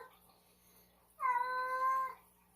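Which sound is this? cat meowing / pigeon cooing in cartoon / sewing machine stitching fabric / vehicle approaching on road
cat meowing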